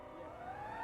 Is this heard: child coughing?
no